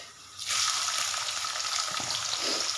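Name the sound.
cumin and onion frying in hot oil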